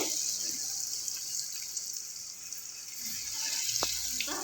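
Masala vada dropped into hot coconut oil sizzles in a steady broadband hiss, close and fairly loud, with a brief splash as a piece goes in near the end.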